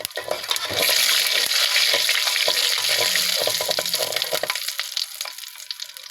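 Panch phoron and garam masala spices sizzle and crackle in hot oil as they are stirred in a pan for a sweet-sour olive pickle, a steady loud frying hiss with scraping stirs, easing off near the end.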